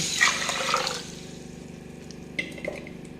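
Water splashes and pours into a pressure cooker holding horse gram for about a second, then quiets to a faint trickle with a couple of small metallic clinks.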